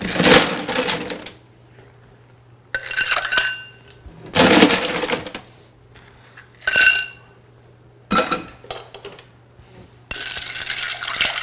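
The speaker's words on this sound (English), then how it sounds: "Then add our ice to our stir." Ice cubes clatter and clink into a glass mixing glass while a Chaplin cocktail is built, arriving in several sharp, bright bursts separated by quiet gaps.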